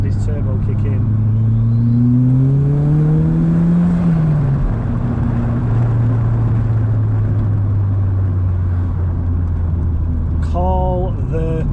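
A 1980s Renault 21 turbo engine pulls hard from second gear at about 3,000 RPM, its loud drone rising in pitch as the turbo kicks in, then easing and holding steady, with a brief shift sound near the end.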